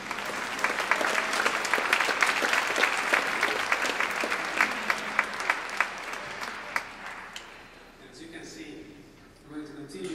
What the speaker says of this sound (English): I think you deserve an applause to yourselves